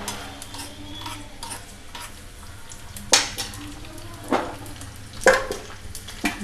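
Black gram frying in a pan for village-style dal is stirred with close scraping and clinking strokes over a steady sizzle, with a few sharper utensil knocks against the pan.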